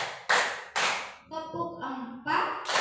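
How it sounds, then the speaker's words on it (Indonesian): A group does rhythmic 'tepuk semangat' spirit clapping in a classroom, two loud broadband bursts of claps then a spoken count, then claps again at the end. "mari kita lakukan tepuk semangat"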